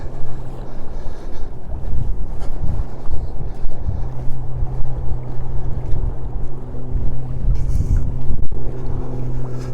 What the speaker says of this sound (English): It's a little windy coming off the lake, so I hope it's not